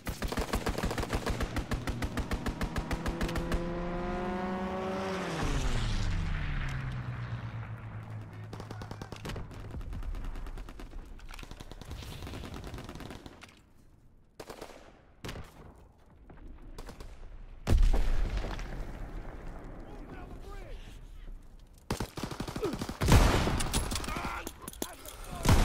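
Fighter aircraft strafing run in a WW2 video game, rapid machine-gun bursts with a descending engine roar early on, followed by scattered loud shots and further volleys, with game voice callouts in between.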